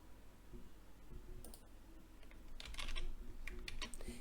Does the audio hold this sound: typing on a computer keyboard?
yes